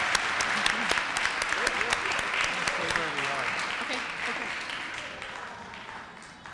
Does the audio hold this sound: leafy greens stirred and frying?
no